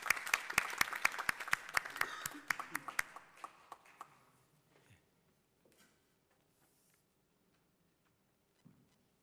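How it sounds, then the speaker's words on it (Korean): Church congregation at a Sunday worship service applauding warmly, loud sharp claps for about four seconds that thin out and fade into near silence, with a faint sound late on. "나오실 때 우리 열렬한 박수로 우리 좀 위로해 주시고 하시겠습니다"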